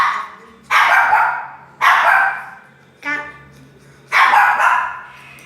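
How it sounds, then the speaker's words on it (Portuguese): A young dog barks four times indoors, loud and close. Each bark is sharp and separated by a second or so of quiet, with a faint steady hum underneath. "quem tá latindo é a Lili"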